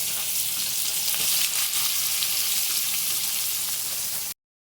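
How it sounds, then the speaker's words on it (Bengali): Chopped onions frying in a pan, a close, steady, bright sizzle that holds for about four seconds before cutting off abruptly, with no speech. "পেঁয়াজটা পুরোটা দিয়ে ভালো করে লাল করে ভেজে নেবো।"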